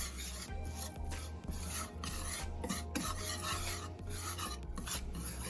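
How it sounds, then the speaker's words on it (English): Oxtails browning in olive oil are stirred in a pot, a steady scraping and rubbing sound with regular strokes and soft sizzle underneath, moderately close and without talk. "You got to keep stirring."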